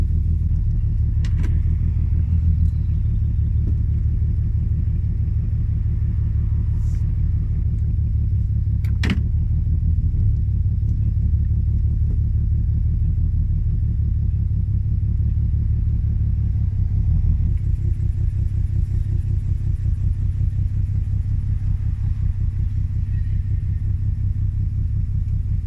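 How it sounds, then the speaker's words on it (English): A Nissan G35 coupe engine, misfiring and running on five cylinders, idles with a steady, low, rough rumble that continues unbroken, with a faint tick or two heard over it. "I think the car is running on 5 cylinders"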